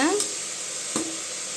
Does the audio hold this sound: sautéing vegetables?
yes